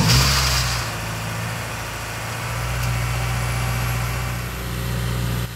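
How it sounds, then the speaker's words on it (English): A Honda S2000 fitted with a Spoon Sports throttle body fires up with a brief louder burst, then settles into a steady, even idle, a continuous low rumble with a faint high whine appearing midway, close and alone. "Let me switch on the engine and then see how it idles and then adjust from there."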